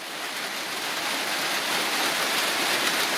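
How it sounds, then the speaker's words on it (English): Steady, dense hiss of rain falling on a surface, constant and fairly loud throughout, with no voices. "I had to run in out of the rain."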